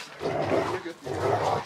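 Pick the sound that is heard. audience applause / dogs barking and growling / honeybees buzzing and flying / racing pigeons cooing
dogs barking and growling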